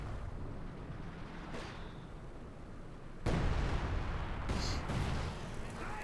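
Howitzer artillery booms in a Company of Heroes 2 match, a muffled distant thud followed by a louder, heavier blast with rumbling aftermath over a low battlefield bed.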